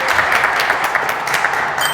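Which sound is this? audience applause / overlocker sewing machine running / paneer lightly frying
audience applause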